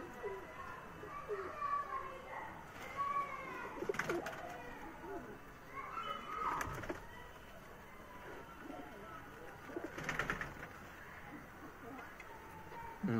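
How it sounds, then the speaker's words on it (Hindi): Pigeons coo repeatedly in low, rolling calls, including chap, surkha and Sialkoti breeds kept by a hobbyist, with a few louder bursts over steady background noise. "कबूतर हैं जी"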